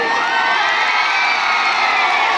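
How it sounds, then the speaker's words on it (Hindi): A huge open-air crowd of well over a hundred thousand people at a Bhojpuri star's political rally cheers and shouts in a dense, sustained roar, loud and close throughout without any single voice standing out. "एक जो और ताली होनी चाहिए।"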